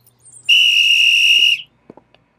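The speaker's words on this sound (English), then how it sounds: "I've gone right off that whistle" A loud, steady, high-pitched whistle blast lasting about a second, blown as a signal for a troop of bee scouts in a children's cartoon, followed by a few faint soft clicks.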